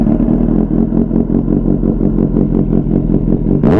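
Kawasaki Z800 motorcycle engine idling and being blipped close up, a steady low throbbing pulse with repeated rhythmic revs and a sharper rise at the very end, alone with no talk.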